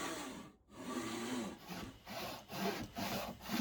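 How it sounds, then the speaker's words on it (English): A handsaw cuts through wood for an acorn inlay in a keepsake box lid. The close, rhythmic rasping strokes are broken by one brief pause, with no voices. "I'm going to show you how to do it with the simplest tools, and that's a handsaw."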